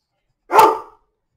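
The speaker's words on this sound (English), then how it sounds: "Oh my God, these dogs." A dog gives one sharp, close bark that rings out briefly and then stops, with nothing else around it.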